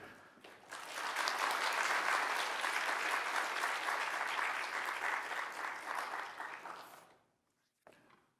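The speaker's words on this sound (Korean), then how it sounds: "우리 목사님 나오실 때 우리 박수로 환영하도록 하겠습니다." A church congregation at a Wednesday prayer service claps to welcome the pastor. The applause swells quickly and holds full and sustained for about six seconds, then fades to silence, followed by one brief faint sound.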